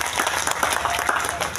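An audience at an outdoor religious gathering in Indonesia claps briefly in a dense patter, loud and close, with a voice speaking over it.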